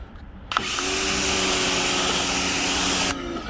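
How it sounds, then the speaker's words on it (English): Pressure washer system at a car wash switching on to rinse a 5th-generation Camaro, a sudden loud steady hiss and hum that holds for about two and a half seconds before cutting off, close up. "you go to the system itself, click on, you're gonna hear it pressurize"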